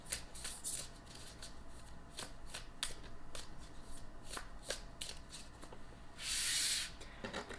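A deck of tarot cards is shuffled with quick, crisp riffles and light card slaps in a steady broken rhythm, closing in a brighter, longer burst of rustling, close-up and fairly quiet with no talking.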